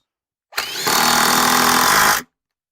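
A power drill drives a 2.5-inch screw into wood for an outdoor bar stool, a brief motor whine rising into one steady, loud whirring run of under two seconds, close up and alone.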